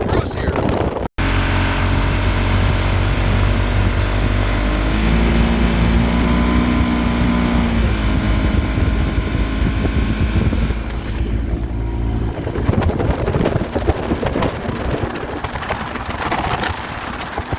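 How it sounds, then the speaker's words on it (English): A vintage 1970s barn-find motorboat, running for the first time in about 20 years, cruises on a lake with a steady, droning engine hum. Wind buffets the microphone throughout and the engine note rises briefly mid-run. "this boat just seems to take a little while to get going"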